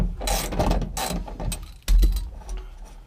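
Ratchet wrench snugging a seat bolt in a Nissan Hardbody truck: a quick run of close, crisp ratcheting clicks in short bursts, with a heavier clunk midway, no talk.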